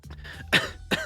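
Coughing up a thick clot of blood, as a sound effect: two sharp, close coughs, with a brief throaty rasp before them, alone and with no talk.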